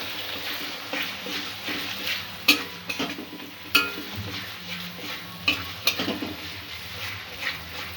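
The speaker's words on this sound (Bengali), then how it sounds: "সব কিছু আবারও একটু মিক্স করে নেব।" A spice mix with cashew and tomato paste being stirred in a pan, a soft steady scraping with several sharp metallic clinks of the spoon against the pan spaced through the clip, close and alone.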